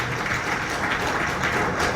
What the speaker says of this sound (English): Please do clap for yourselves.